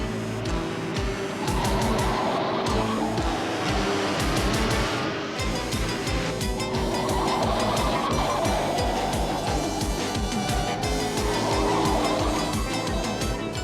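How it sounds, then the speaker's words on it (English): A truck engine roars and builds speed under a dense, steady wash of dramatic music, the motor noise blending into a loud, continuous mix from a car-chase scene in the animated Pole Position series. "The truck's speeding up."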